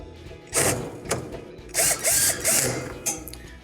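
Screws are driven back into the front of a Whirlpool refrigerator shelf, giving ratcheting, clicking mechanical bursts in several short spurts with brief pauses, close and fairly loud.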